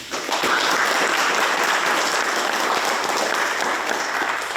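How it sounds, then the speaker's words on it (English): An audience claps throughout at a Schroeppel Historical Society talk: dense, sustained applause that starts abruptly and holds steady and fairly loud for several seconds. "let's give them a round of applause."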